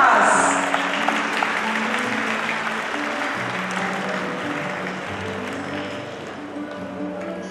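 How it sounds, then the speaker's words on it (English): Steady audience applause fills the room, gradually fading, with music and some voices underneath. "give a huge round of applause for the shining stars"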